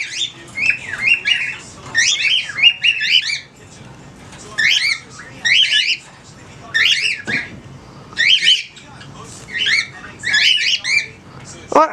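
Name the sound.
pet birds squawking before a storm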